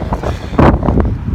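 Cold wind gusts buffet a cyclist riding near the Golden Gate Bridge in San Francisco, loud rushing bursts of air that swell and fade over a moment.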